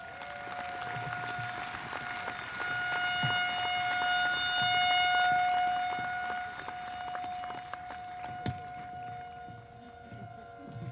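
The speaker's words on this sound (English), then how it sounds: "for putting up with our sirens here" Outdoor civil defense sirens wail during a spring 2020 commencement, a sustained rising and falling tone that swells and fades over several seconds, distant and steady.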